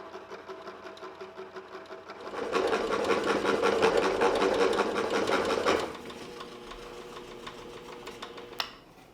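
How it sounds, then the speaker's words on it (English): A scroll saw chatters rapidly as it cuts curves in wood, growing louder for a few seconds while the blade bites in, then dropping back to a quieter buzz. "To cut the curves, I'll use the scroll saw again."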